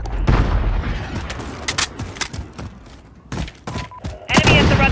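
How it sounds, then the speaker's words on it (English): Heavy booms and thuds from a cruise missile strike in Call of Duty: Modern Warfare team deathmatch, mixed with scattered gunshots and loud impacts in a chaotic battle soundscape, with voices briefly over it. "Allied cruise missile."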